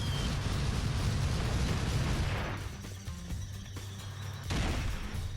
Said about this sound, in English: I'm going to slap a charge on this anti-air cannon